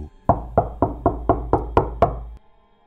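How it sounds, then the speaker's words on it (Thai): Eight evenly spaced knocks on a door ring out close and loud, a steady rhythmic rapping that stops abruptly and leaves a brief quiet tail. "ก็ได้ยินเสียงเคาะประตู"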